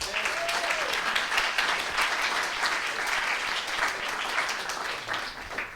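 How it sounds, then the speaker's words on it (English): An audience claps steadily for competition judges at a physics versus biology science event, a continuous close wash of applause lasting several seconds, with a faint voice briefly audible early on. "Can I get a round of applause for our judges tonight?"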